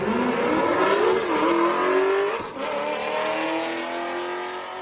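Street cars race at a motorsports park, roaring loudly as they accelerate and shift, one passing close by before another engine note rises in the distance.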